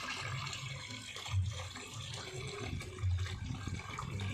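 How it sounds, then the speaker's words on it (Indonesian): A koi pond waterfall, fed by a pump through filter boxes and built fairly high, pours continuously into the pond with a steady splashing rush that is close and moderately loud, with no talk. "terus di filter sama kotak-kotak filtrasi tadi, dan masuk ke sini waterfall"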